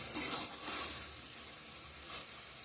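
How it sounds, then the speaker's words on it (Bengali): Banana flower curry, mochar ghonto, sizzles and hisses steadily in a pan while being sautéed and stirred, a soft continuous frying sound close by with no voices. "ভালো করে কষিয়ে নিই।"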